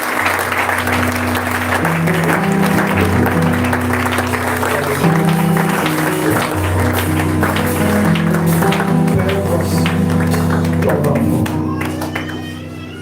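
A church congregation applauds steadily and loudly throughout, the dense clapping sitting over sustained low musical tones that fade slightly near the end.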